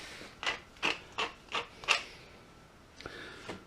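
A pepper mill grinds pepper into a pot of chilli: five quick crunchy twists in a steady rhythm, then a pause and two softer turns, close and quiet.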